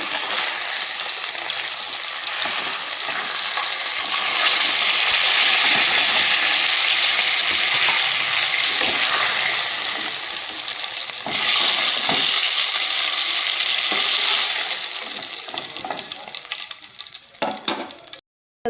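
Chitol fish frying in hot oil, a loud, steady sizzle and crackle that runs nearly unbroken for the whole stretch, with a few sharper spits and stirring knocks before it thins out at the end.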